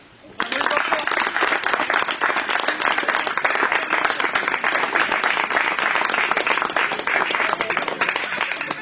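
A hall audience applauds young budding artists, a loud, steady wall of clapping that starts abruptly and holds at full strength to the end.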